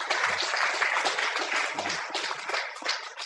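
Audience applause during a live drama and discussion event: a dense, steady wash of clapping from a crowd that stays fairly loud and even for a few seconds, with no voices over it.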